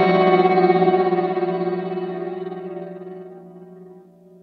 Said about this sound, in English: I amped it up to max on the reverb modulation delay. It creates this really cool like tremolo effect